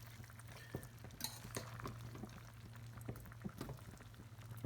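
Spoon scraping and stirring through pork goulash with potatoes in a Saladmaster 5-quart wok, soft intermittent clinks and wet bubbling over a low steady stovetop hum, no voices.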